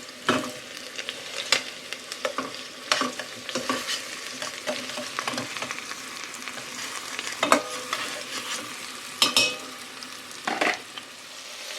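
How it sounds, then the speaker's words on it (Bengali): Rice grains frying and being stirred in a hot pan for a quick chicken biryani: a steady crackling sizzle broken by periodic scraping stirs every few seconds, close and fairly loud, with no talking. "ভালোভাবে চালগুলোকে বেজে নিব"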